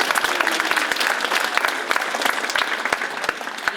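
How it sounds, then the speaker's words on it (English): An audience at a high school sophomore class presentation claps steadily for an assistant principal, a dense patter of many hands lasting several seconds without a break. "Sure, you can give him a applause."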